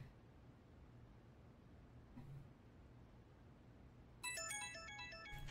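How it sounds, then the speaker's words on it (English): A cell phone ringtone from the video game Persona 5 starts suddenly near the end, a bright melodic jingle rising over quiet low background hum. "Oh, is that my cell phone?"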